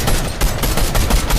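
Rapid automatic gunfire in a squads shooter video game, loud close bursts of shots in quick rhythm with short gaps.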